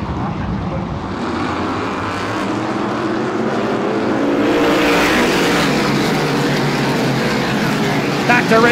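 Race cars at Star Speedway roar past in a dense, loud field of engines under a restart green flag, building in intensity as the pack swells, with a commentator talking over the noise.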